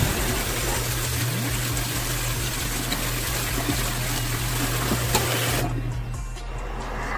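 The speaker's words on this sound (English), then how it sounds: "Now let's strain the noodles and then wash them with water." Water gushes steadily over freshly strained noodles, a loud continuous rushing stream that stops abruptly near the end.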